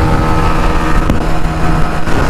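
Four commuter motorcycles, a Hero Splendor Plus, Bajaj Platina, Honda CB Shine and Bajaj Pulsar 125, racing on a road give a steady, loud engine drone with wind rush throughout, no voices.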